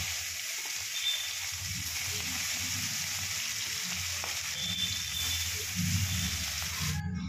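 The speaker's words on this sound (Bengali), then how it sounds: "মাছগুলো আমি এক এক করে ভেজে নেব" Kalbaush fish fry in hot oil in a wok, giving a steady, fairly quiet sizzle and hiss that runs evenly throughout, with no talking.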